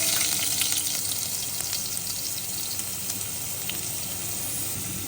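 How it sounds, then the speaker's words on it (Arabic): Garlic sizzles in a little hot oil in a pan, a dense, steady crackling hiss that stays close and even throughout, with faint scraping ticks and no voices. "الحين اول شيء حطيت الزيت شويه، حطيت ثوم"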